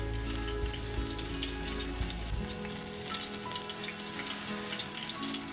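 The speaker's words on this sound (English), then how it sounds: "so I'm gonna fry it until it's really nice and brown on the outside" Breadfruit slices frying in hot oil in a pan over medium-high heat, a steady dense sizzle that continues unbroken throughout, with a low rumble fading partway through and no voices.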